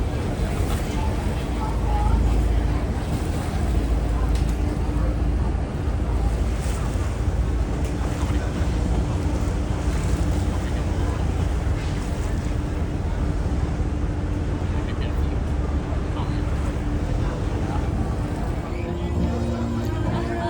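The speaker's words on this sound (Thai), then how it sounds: "นี่มาแล้วครับเป็นเรือให้บริการฟรีจากเอเชียทีกนะ" Free shuttle boat to Asiatique The Riverfront in Bangkok, a loud, constant engine rumble mixed with water wash and wind buffeting, with voices faintly under the noise.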